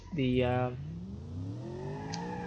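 A car engine revs and whines in a racing video game, a strong rising rev at the start followed by a sustained, gradually climbing whine at moderate volume.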